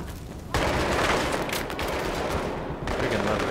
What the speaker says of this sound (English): Freaking love blowing up cars.